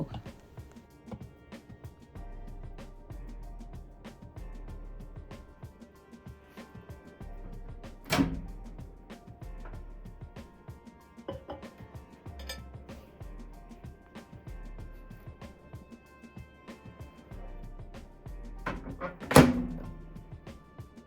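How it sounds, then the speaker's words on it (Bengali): A lid set onto a dish that is then placed inside a microwave oven, heard as two distinct sharp thunks and clinks well apart amid quiet handling noises in a kitchen. "এবার ওপরে ঢাকনাটা লাগিয়ে মাইক্রোওভেনের মধ্যে বসিয়ে দেব"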